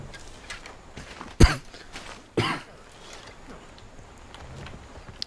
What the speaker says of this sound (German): Der Raucher husten.